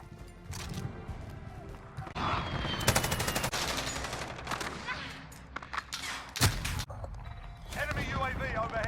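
Rapid automatic gunfire from a Bruen MK9 light machine gun in the video game Modern Warfare, sustained close bursts mixed with scattered distant shots, impacts and game voice callouts.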